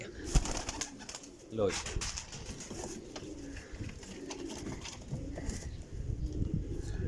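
Rampuri pigeons coo close by, their low throaty calls running under someone talking, with some handling noise and rustling around them.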